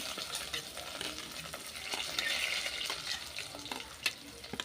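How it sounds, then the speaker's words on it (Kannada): Green chillies, onion, curry leaves and cumin fry in a pan with a soft, steady sizzle, while a spoon stirs and scrapes at intervals, all fairly quiet and close. "ಇಷ್ಟು ಹಾಕೊಂಬಿಟ್ಟು ಸ್ವಲ್ಪ ಫ್ರೈ ಮಾಡ್ಕೋಬೇಕು"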